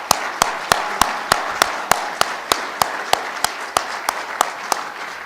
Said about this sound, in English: I'd like to give a round of applause for Mr. Tom Fitzsimmons in the back of the room